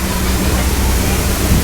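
A waterfall on the Disneyland Jungle Cruise ride roars as a dense, steady rush of falling water, loud and close throughout, filling the whole brief moment.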